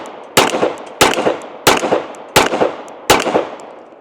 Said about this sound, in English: that is a great shooting 1911